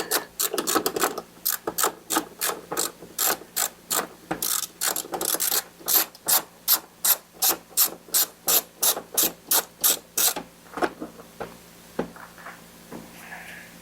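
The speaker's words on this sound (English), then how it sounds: "Grab a 10 millimeter deep well socket. Let's get the clamp off of here first." A ratchet with a 10 mm deep well socket loosens the battery clamp on a 2019 Honda Passport, giving about twenty-five crisp, evenly spaced clicks in steady rhythm, close and clear, before a few slower isolated clicks at the end.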